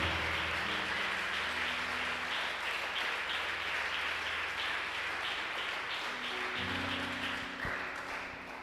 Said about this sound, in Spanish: Alguien déle aplauso fuerte a Cristo.